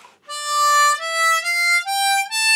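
A diatonic harmonica plays a short minor-key melody starting on the fourth hole draw, a few sustained, reedy notes stepping upward, clear and close with no other sound.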